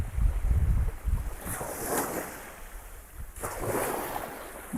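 Sea waves wash onto the shore at Koliyak near the Nishkalank Mahadev temple, with wind gusting across the microphone. Surges of surf swell and recede in a steady rhythm, close and moderately loud, with no talking.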